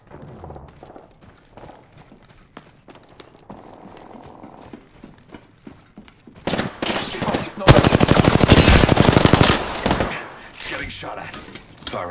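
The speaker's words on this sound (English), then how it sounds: "Getting shot at. Firing on subjects." Apex Legends gunfire: quiet scattered shots and game effects at first, then a loud sustained automatic burst with rapid shots, close and dense, under a flat in-game voice line.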